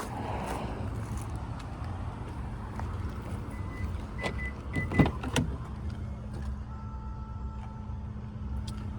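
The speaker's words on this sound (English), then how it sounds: "Power windows, locks, and mirrors." Power windows on a 2022 Hyundai Elantra SEL, heard from inside the car as a quiet, steady electric motor whine that starts partway through and carries on to the end over a faint background hum.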